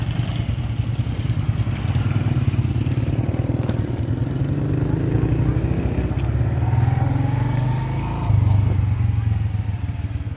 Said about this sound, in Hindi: यह मोटरसाइकिल चला रहा है